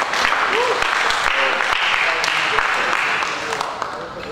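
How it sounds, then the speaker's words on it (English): Audience applause at a public guest lecture, a dense steady patter of many hands clapping throughout, with faint voices mixed in underneath. "Let us give applause to our audiences."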